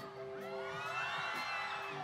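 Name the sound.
audience shouting and cheering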